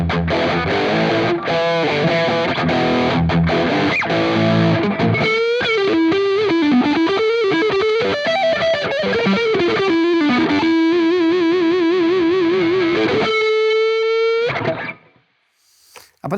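A heavily distorted electric guitar on the bridge humbucker pickup plays chords, then a bending, sliding lead line with a sustained note, loud and close, before cutting to silence.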